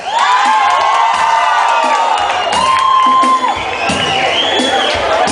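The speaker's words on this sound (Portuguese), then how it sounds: "Palmas pro Silas" A crowd claps and cheers loudly for Silas, with shrill whoops and high shouted voices riding over continuous applause, close and lively throughout.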